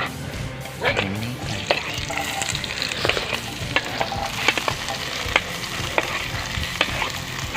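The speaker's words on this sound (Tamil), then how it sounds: "எண்ணெய் ஊற்றி சூப்பர் வெங்காயத்தை போட்டுக்கலாம்." Onions frying in oil in a pan for a village-style pasta masala, with a steady sizzle and regular spatula scrapes and taps against the pan, close and fairly loud.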